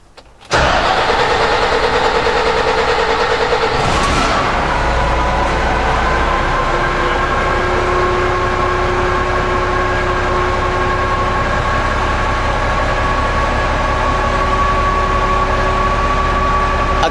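A six-cylinder MMZ diesel engine with Bosch common-rail injection cranks, fires and settles into a steady loud idle, running continuously close by with no voices.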